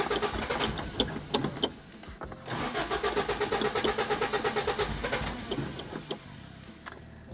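A flooded engine in a 1975 Toyota Corolla KE35 cranks repeatedly with a rapid rhythmic chugging that struggles without catching, after a few clunks, then trails off.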